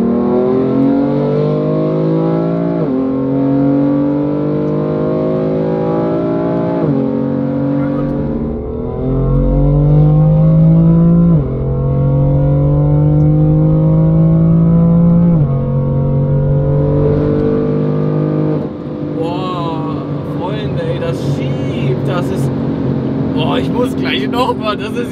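A 700 hp BMW M4 tuned by Infinitas pulls hard in third gear, its engine note climbing in repeated surges through gear changes, loud and close from inside the car, with people talking over it near the end.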